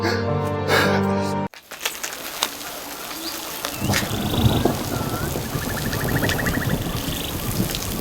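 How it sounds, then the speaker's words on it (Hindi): A steady hiss of rain falls outdoors after a brief opening burst of music, dense and continuous, with a few bird calls over it. "बारिश हो रही है"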